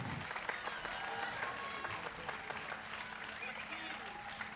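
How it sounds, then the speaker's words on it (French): An audience applauds two percussionists and teachers with continuous clapping, mixed with voices and murmured talk throughout, fairly close and steady. "Est-ce qu'on peut donner une très, très grosse main d'applaudissement et un gros merci à nos deux excellents percussionnistes et pédagogues, Martin Ruel et Adama"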